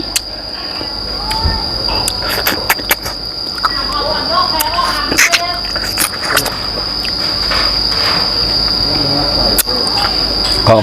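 Insects chirp outdoors in a dense, steady, high-pitched trill that runs through the whole stretch, loud and close, while people talk and move about underneath.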